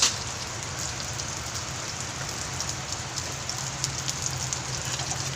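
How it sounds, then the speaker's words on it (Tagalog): Steady rain falls on a rainy morning, a continuous close hiss of drops on surfaces with a low rumble beneath, filling the whole stretch without a pause. "It's raining."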